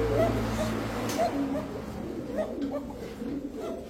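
A female Shalik Koka pigeon coos in soft, low repeated calls close by, mixed with people talking and a steady background hum.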